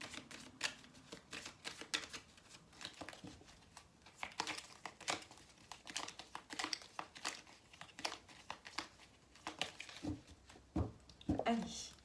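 Tarot cards are handled and shuffled in quick, faint bursts of crinkling and flicking. The rhythm is irregular and close, under a quiet background.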